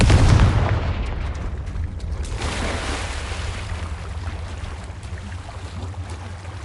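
A Confringo blasting spell explodes in Hogwarts Legacy, with a heavy booming blast at the start that decays into a long rumbling tail, alone without talk.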